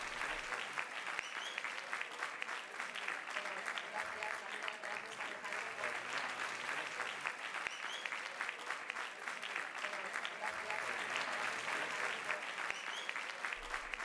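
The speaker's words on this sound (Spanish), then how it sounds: "Yo creo que les debemos dar un inmenso aplauso." A school audience at a business culture week gives a long, steady round of applause after a talk, dense even clapping filling the whole stretch without a break.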